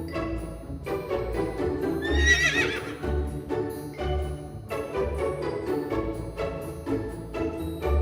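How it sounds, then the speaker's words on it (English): A royal carriage drawn by horses arrives, a horse whinnying in a bright burst near the middle over a steady clip-clop rhythm, set within continuous background music. "When the royal carriage arrived"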